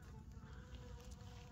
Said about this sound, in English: The bladder pod getting visited by a lot of bees.